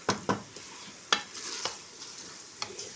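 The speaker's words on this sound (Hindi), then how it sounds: "अब हम इसे मिक्स करने लगे हैं कीमे को आलूओं के साथ।" Keema (minced meat) and potatoes sizzling in a pan as they are stirred: faint steady frying hiss punctuated by several sharp spoon scrapes and clacks against the pot, no talk.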